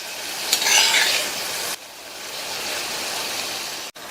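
Masala powder sautéing in a pan for a raw banana side dish, giving a continuous close sizzle with scraping stirs at the start that settle into steady frying hiss, no talking.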